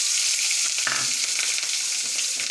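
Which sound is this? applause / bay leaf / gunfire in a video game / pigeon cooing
bay leaf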